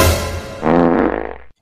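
A cartoon fart sound effect in a Desi comedy animation, a single blast about a second and a half long that starts as a low rumble and ends in a rapid sputtering flutter before cutting off abruptly.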